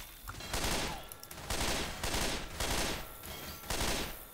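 Rhythmic bursts of video game gunfire in Armello come in about five rapid, loud volleys at a steady pace, dense and close, with no talk over them.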